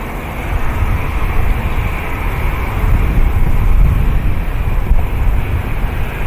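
Ryanair jet on its take-off roll from runway 05 right, about to rotate: a steady, fairly loud broadband engine roar with rumbling low end and wind buffeting, sustained and even throughout, no talk.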